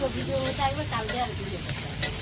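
Onion, green chilli and ginger-garlic paste sizzle in a pan while being stirred, a close, steady frying crackle punctuated by sharp scrapes and clinks of the spoon against the pan.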